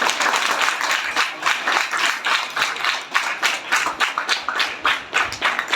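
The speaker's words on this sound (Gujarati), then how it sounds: "જોરથી તાળી પાડો બીજો." A school prize-giving audience claps in a brisk, rhythmic burst of applause, with many hands beating fairly close and loud for several seconds.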